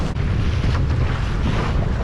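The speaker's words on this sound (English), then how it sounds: "The current runs really hard there, and the waves like really build up here." Choppy, broken water slaps around a small boat in a fast-current harbour while strong wind buffets the microphone in a loud, dense, continuous roar.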